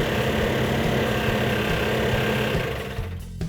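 A Plymouth 340 V8 from a 1970 'Cuda runs rough on about six cylinders with low compression, a loud, steady, uneven idle that carries on alone before dropping away near the end.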